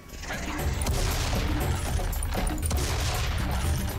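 Continuous heavy gunfire and explosions from the video game Serious Sam 3: BFE, a loud dense barrage of shots and booms filling the whole stretch.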